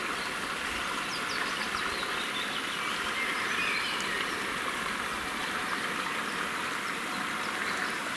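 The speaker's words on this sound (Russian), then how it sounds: "Вода бежит." A forest stream running steadily, a constant broad hiss of flowing water close by, with faint bird calls above it and no talking.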